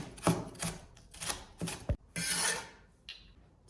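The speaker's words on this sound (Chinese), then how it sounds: "然后也给它切成细丝" A knife slicing vegetables into thin strips on a cutting board, a run of close, crisp cuts in uneven bursts with short pauses between strokes.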